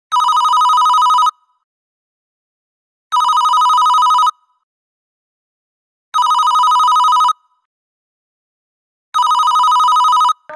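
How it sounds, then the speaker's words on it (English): A telephone rings in four evenly spaced bursts, each about a second long with a pause of roughly two seconds between them, loud and clear with no talking. "Ringing the police department."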